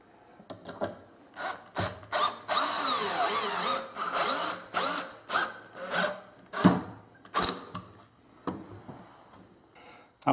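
A power drill bores into wood with a Kreg K4 pocket hole jig, in repeated short high whirring bursts that bite and stop, close and loud, with brief pauses between.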